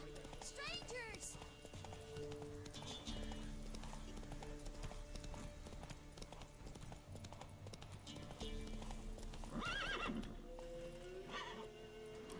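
Roach, the horse in the Witcher 3 video game, gallops with rapid clip-clop hoofbeats throughout and lets out loud neighs near the start and again near the end, with game voices and a player's speech layered over the hooves.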